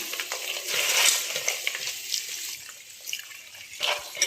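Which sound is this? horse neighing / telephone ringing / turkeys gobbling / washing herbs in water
washing herbs in water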